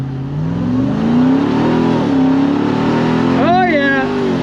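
A Ram TRX pickup truck launches hard, its supercharged engine revving up in rising, harmonic-rich pitch sweeps, loud and close, with a final sharp climb near the end.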